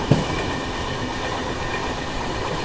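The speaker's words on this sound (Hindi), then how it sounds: "ट्रेन ने स्पीड पकड़ ली है" An AP Express passenger train picking up speed on the main line, a steady dense rumble of wheels and carriages heard from on board, constant and loud with no voices.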